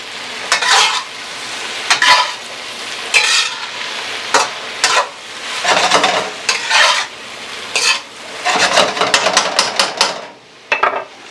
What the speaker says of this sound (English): So now I'm going to put some green onions in there. A little toss.